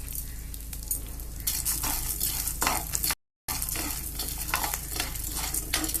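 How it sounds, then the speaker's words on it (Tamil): Chana dal, urad dal and garlic roasting in a pan for a medicinal pirandai powder, a steady close dry sizzle with repeated scraping stirs of a spoon, broken by a brief silent gap midway. "கடலைப்பருப்பு, உளுந்து, பூண்டு எல்லாத்தையும் வறுத்துக்கணும்."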